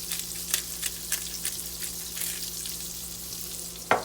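Salmon fillet frying in a pan, a steady close sizzle with soft crackling pops and a sharper clink near the end, no voices.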